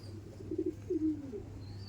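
Rampuri pigeons give soft, faint coos in a couple of short throaty bursts over a quiet background hum.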